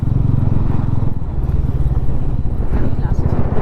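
A motorcycle engine drones steadily under throttle as it climbs a rough red hill road toward Deomali Hill Top in Koraput, a continuous low rumble with road clatter throughout.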